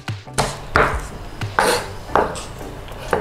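A knife chops tuna larb ingredients on a cutting board: five or six distinct, fairly loud strokes at an unhurried, uneven rhythm, each one a sharp knock with a brief scrape, with no voices.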